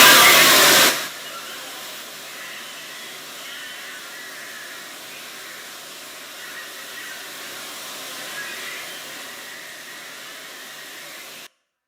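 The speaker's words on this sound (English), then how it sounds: "the sound of all those Furby motors mirroring your body really did sound like water" Many motorized Furby toys whirring together in an interactive installation, a steady soft hissing rush like running water after a brief loud burst at the start, fairly even throughout.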